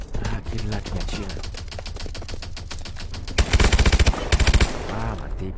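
Rapid automatic gunfire in a shooting video game, loud dense bursts with a sharper, heavier volley near the middle, under faint background game sounds.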